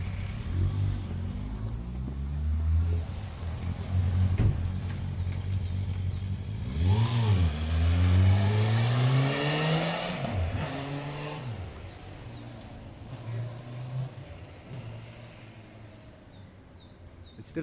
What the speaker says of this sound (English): So we're just test riding the Bandit 400.